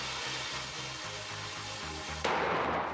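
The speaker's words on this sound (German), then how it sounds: "Weiter geht's mit dem kubischen Kanonenschlag" A cube-shaped Kanonenschlag firecracker set on a can goes off in one sharp, loud bang about two-thirds of the way in. A steady pulsing beat runs underneath before the blast.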